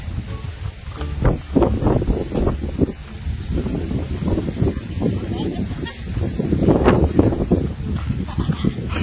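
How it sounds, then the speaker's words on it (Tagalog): Strong wind buffets the microphone outdoors in Mindoro ahead of a possible storm, gusty low rumbling surges that rise and fall, with people talking under it. "Malakas yung hangin."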